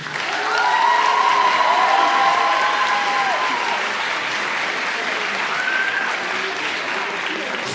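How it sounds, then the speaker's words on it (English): Audience at a senior one-act drama night applauds the students of an arts academy, sustained loud clapping from a crowd with cheers and whoops rising above it. "A round of applause for them."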